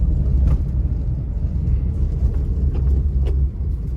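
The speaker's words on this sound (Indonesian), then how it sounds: "Road noise juga masuk ke dalam kabin, namun uniknya suara mesin tergolong minim dibanding mobil sekelasnya." Cabin of a 2014 Honda Brio Satya E manual hatchback with a 1200cc four-cylinder engine, driving on the road: a steady, loud low rumble of road and engine noise, with no voices.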